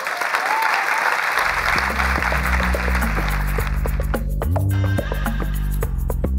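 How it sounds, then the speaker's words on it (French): Audience applause at a recorded public discussion in a museum, a dense burst of clapping that carries on while a low music sting swells underneath and gradually takes over. "Vous pouvez encore les applaudir."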